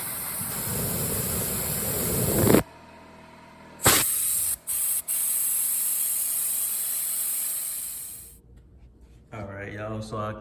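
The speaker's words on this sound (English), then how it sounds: "So next thing I'm gonna do is just blow through the whole carburetor, all the holes. Then I'm gonna blow through the jets." Compressed air blasts loudly through the carburetor holes and jets of a 2001 Honda TRX400 ATV in long hissing bursts with brief gaps, then cuts off as a voice begins speaking near the end.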